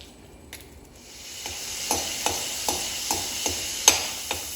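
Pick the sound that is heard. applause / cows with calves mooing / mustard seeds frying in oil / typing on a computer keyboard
mustard seeds frying in oil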